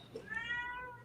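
A cat gives a single drawn-out meow, faint and in the background of a quiet room.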